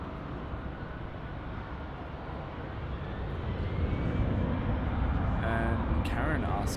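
An Airbus A340 airliner taxiing at Munich Airport gives off a steady, broad engine roar that builds a little partway through, with faint higher whines near the end.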